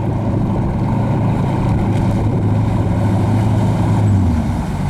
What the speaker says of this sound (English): He's having to fight a fair amount of wind, as you can probably tell by the noise